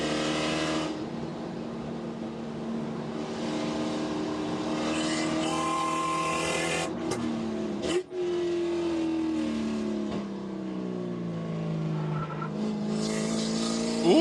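Nankang tires on a Spec Corvette race car squealing and sliding through a horseshoe turn at Daytona International Speedway, layered over loud engine revving, with pitch sweeps, a sharp break midway and further squeals; no voices.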